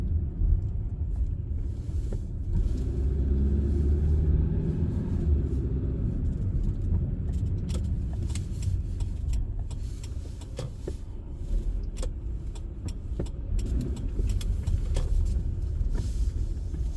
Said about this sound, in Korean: 버스가 시내 버스 영덕으로 출발하려고 그러네